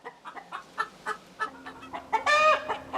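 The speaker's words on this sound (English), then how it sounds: "She's clucking and complaining." A hen clucks repeatedly inside a chicken coop, a string of short, close complaining clucks that build into a louder, drawn-out squawk near the end.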